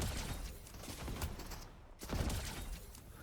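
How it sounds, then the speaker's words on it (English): Repeater gun shots fired into the ground in the video game Escape the Hood, a dense, loud burst of rapid impacts and crackling that briefly drops out near the middle before resuming. "it's a good time to use the repeater. Oh. And just even shoot it into the ground."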